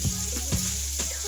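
Diced peppers, mushrooms and onions sauté in a pan with a soft, steady sizzle, punctuated by a few light stirring scrapes.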